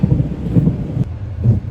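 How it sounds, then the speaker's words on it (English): Low, rumbling thunder rolls through the background, with deep booming swells and a brief crack near the middle, steady noise underneath. "And you can probably hear the thunder in the background."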